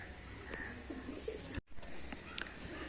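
Pigeons for sale, including long-bodied shinga birds, coo softly in short low bursts amid a busy background hum, with a brief dropout midway and faint chirps above.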